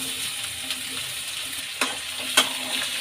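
Onion frying in oil in a pan while being stirred, prepared for a South Indian spicy chitranna rice breakfast with urad dal and curry leaves; a steady close sizzle runs throughout, broken by two sharp scraping strokes of the spoon.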